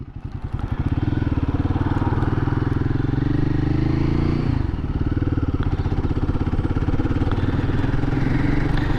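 A Royal Enfield motorcycle accelerates from first gear straight to third in one shift. Its loud, close single-cylinder thump runs steadily, with a brief dip in pitch at the gear change before the engine pulls on again.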